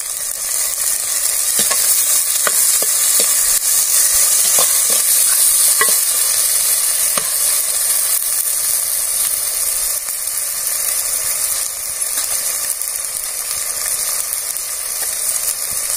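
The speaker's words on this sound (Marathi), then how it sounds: "टमाटर पण टाकून घ्यायचं, कांदा थोडा परतल्यानंतर." Onion and tomato frying in a pan for a Marathi carrot sabzi, a steady close sizzle with scattered scraping stirs of a spoon across the pan, no voices.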